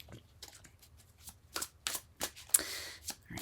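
Tarot cards being shuffled close by in quick, uneven bursts of riffling and slapping, with short gaps between; quiet room otherwise.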